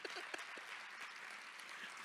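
Applause from a luncheon audience, a steady, fairly faint wash of clapping with a few sharper claps near the start.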